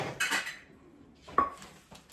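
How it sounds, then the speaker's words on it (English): Cereal snack mix is loaded onto metal baking pans, producing a couple of close, bright metallic clinks and scraping rattles separated by a short quiet gap. "I've got my baking pans here, and I'm going to just load them up."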